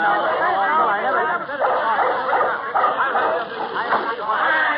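A small dog in an old-time radio comedy yips and barks repeatedly, medium-close, mixed in with lively voices talking over one another, with a boxy, band-limited broadcast sound.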